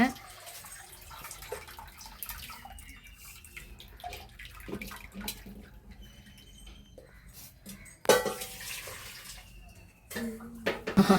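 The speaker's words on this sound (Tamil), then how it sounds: "அடுத்து குழம்பு வைக்கிறதுக்கு வந்து இப்போ புளி கரைச்சிக்கிட்டு இருக்காங்க" Tamarind is being dissolved in water for a fish curry. There is intermittent sloshing, splashing and dripping, quiet at first and then louder in bursts near the end.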